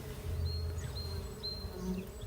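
Honeybees fly around their hive during the 2024 solar eclipse, a steady close swarm of overlapping buzzing wingbeats with a few individual bees droning past.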